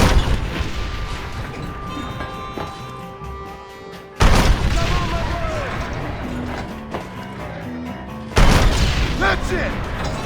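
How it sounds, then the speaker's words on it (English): Two heavy cannon blasts go off in the Red Dead Redemption video game, each a sudden loud boom several seconds apart, over battle noise and shouting voices. "This should be fun. Never managed a cannon before."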